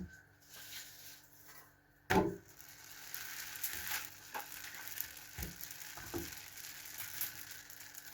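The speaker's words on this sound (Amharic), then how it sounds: "በጣም ደስ የሚል ቆንጆ ፓንኬክ ነው እየጋገርኩ ያለሁት።" A pancake fries in a pan over low heat with a soft, continuous sizzle and hiss, broken by a sharp clank early on and a few quieter knocks. It stays faint throughout.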